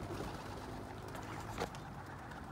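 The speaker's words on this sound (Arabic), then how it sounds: "ذني زواجل طارن" Homing pigeons cooing at close range, soft repeated coos over a steady background, with a brief flutter of wings near the middle.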